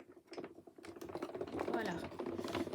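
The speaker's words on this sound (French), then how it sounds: "je tourne à l'envers et je coupe le fond" Scissors or a cutter slicing the base of a heart-shaped craft embellishment, a close, quick run of small crisp snips and rustles lasting a few seconds.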